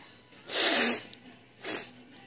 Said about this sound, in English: I gotta blow your nose.